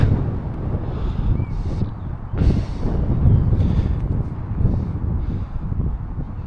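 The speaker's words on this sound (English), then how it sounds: "It's quite windy here today, actually." Gusty wind buffeting the microphone with low rumbling roars that swell and ease, loudest in the middle, with no talking.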